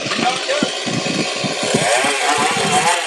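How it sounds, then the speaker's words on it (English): Chainsaw cutting into a raw pine log while carving a shark, its engine snarling steadily throughout with choppy low bursts as the blade bites, fairly loud and close, under some talk. "let's start carving this shark with the chainsaw"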